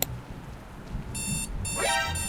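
An in-game alarm clock in the video game Start Survey rings with bursts of shrill, rapid beeping that start and stop, over a low background hum.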